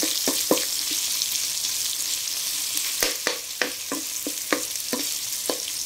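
Pork liver sautéing in a pan gives off a constant sizzling hiss, broken by sharp clinks and scrapes of a utensil stirring against the pan, close up and with no talking.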